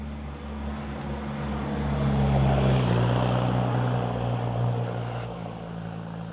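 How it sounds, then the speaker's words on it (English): A noisy Toyota Land Cruiser, likely V8, drives past on a suburban street in Perth, a steady low engine rumble swelling to a peak midway and fading again, fairly near with no talk over it. "There's a very noisy Land Cruiser goes past."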